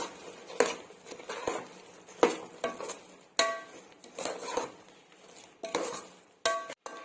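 A utensil stirs soaked, squeezed soya chunks (meal maker) and coriander into a pot of Nellore-style tomato biryani, giving close, irregular clinks and scrapes against the pot with soft wet shuffling between strikes.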